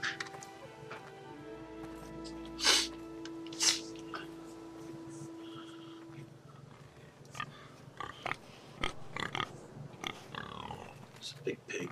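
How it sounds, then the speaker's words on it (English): A big pig snorts and grunts in the Game of Thrones Telltale video game, with two sharp squeals early on, then scattered faint clicks and rustles over a low background and some voice. "It's a big pig."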